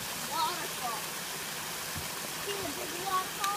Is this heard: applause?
no